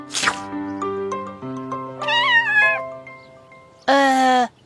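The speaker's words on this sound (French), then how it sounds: "Au moins, le chaton est content." A cartoon kitten meows in a few drawn-out, tonal cries, one rising and falling, alone against a sustained musical backdrop in a French children's animation about trucks.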